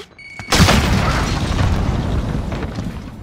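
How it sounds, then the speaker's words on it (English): A grenade goes off in the Call of Duty shooter game with one sudden heavy boom after a brief quiet moment. A loud rumbling tail follows and carries on for about three seconds with no speech. "Throwing grenade!"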